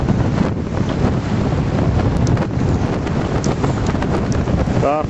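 Constant wind buffets the microphone on a fishing boat out on the water, a loud, unbroken rushing roar with faint splashing of waves beneath it.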